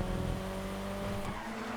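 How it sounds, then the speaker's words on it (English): Car engines drone and rev steadily in a GTA 5 rallycross race video game, a continuous loud motor hum with tire noise and no talking. "I can hear some more engines revving"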